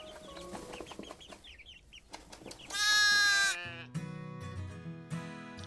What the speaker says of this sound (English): And young animals such as chicks and lambs are born.